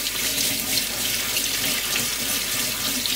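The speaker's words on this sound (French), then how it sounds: "je prends mes noisettes et je les rince comme il faut." Tap water runs steadily over hazelnuts being rinsed in a sink, a continuous close hiss and splash with no talking.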